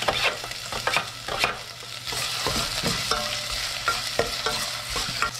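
Garlic and ginger sauté in hot cooking oil, sizzling steadily while a utensil stirs and scrapes the pan in irregular strokes. The sizzle stays fairly loud and close, with no voices.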